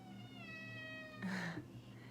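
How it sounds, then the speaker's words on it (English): A pet cat gives a single short meow, close and fairly quiet, rising out of a faint background of steady tones. "oh, the kitty's saying hi"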